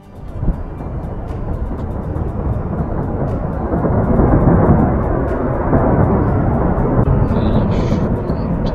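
A deep, continuous rumble builds and swells, heavy and roaring like a massive landslide, with faint sharp ticks scattered above it.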